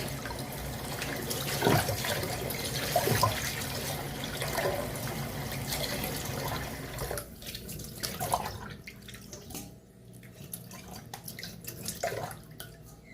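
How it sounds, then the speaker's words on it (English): Meat rinsed with water in a bowl in a kitchen sink: a soft, continuous trickle and splashing with faint drips and occasional clinks, steady throughout. "I always rinse my meat at least 3 times. Sometimes I may go to 4 or 5 times."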